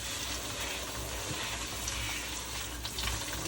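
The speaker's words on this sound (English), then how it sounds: "now we're going to wash the smoked fish." Smoked fish being washed under running water in a kitchen, a steady faint splashing hiss of water without a break, no voices.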